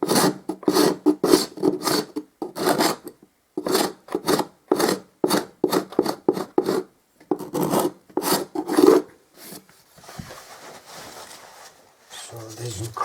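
Repeated rasping strokes of sandpaper against a wooden baseboard edge, in quick rhythmic passes close up, then a pause followed by faint rubbing.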